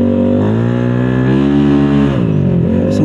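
A scooter engine revs hard at high RPM, its loud, steady drone rising and falling slightly over a few seconds, close to the listener with no talking.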